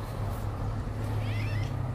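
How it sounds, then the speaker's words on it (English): A British Shorthair cat about to be brushed lets out a soft, drawn-out meow over a steady low hum of room noise. "This is Roxy, my British short hair girl, and it's time for a brush"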